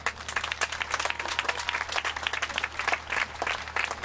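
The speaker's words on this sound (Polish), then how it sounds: "to może ręce do klasków się złożą" Festival audience at an outdoor sung-poetry gathering applauding steadily, a dense wash of many hands clapping throughout, fairly close and loud with no talk over it.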